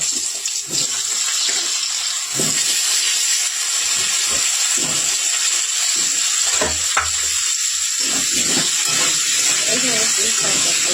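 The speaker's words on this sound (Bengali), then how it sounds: "এবার আমরা ভেজে নেব আলুগুলো, সব সবজিগুলো ভেজে নেব।" Potatoes and assorted vegetables frying in oil in a pan for a spinach and fish-head curry, a steady close sizzle with occasional stirring clatter, and a voice speaking over it at times.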